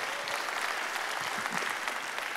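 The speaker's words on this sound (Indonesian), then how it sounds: "Nah, kita beri tepuk tangan," Audience applause in a church gathering, a steady wash of many hands clapping at moderate distance, fairly quiet and even throughout with no speech over it.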